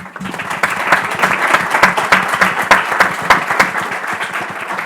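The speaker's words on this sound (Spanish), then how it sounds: "Un aplauso a Héctor." Applause from the audience at a medical residents' academic session, dense clapping at close range that carries on steadily for several seconds.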